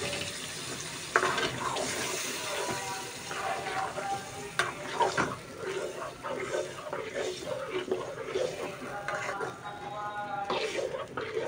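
Potato pieces frying in a pan for a Bogura-style aloo dish, a steady close sizzle broken by stirring scrapes, with a voice speaking over it.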